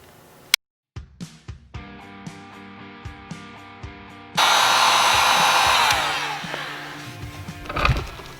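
A heat gun blows hot air onto a dented car panel, preceded by a series of sharp taps and clicks, then a steady loud broadband whoosh that fades slightly and swells again near the end.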